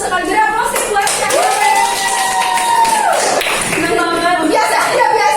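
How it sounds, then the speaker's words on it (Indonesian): Students in a classroom give a round of applause, quick close claps and taps over several seconds with a sustained voice and other voices mixed in. "Beri aplaus buat Syah."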